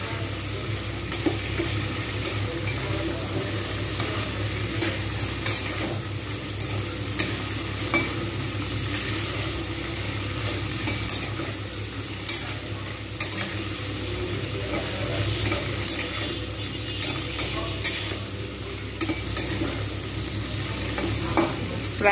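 Prawns sizzle steadily in a hot pan while a utensil stirs them, a continuous close frying hiss with scraping, no talk.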